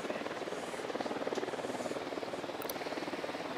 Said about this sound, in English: Drone is up.